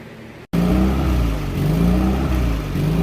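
Freshly installed engine in a Tracker fires up after a brief silence and runs steadily at close range, a low rumbling idle with slight rises and dips in revs and no talking.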